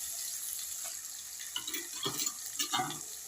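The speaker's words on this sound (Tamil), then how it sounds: "இப்போ இறால் போடப்பேன்" Raw prawns dropped into a hot cooking pan, setting off a soft hiss that swells into a few sharper sizzling bursts toward the end, close and unaccompanied by speech.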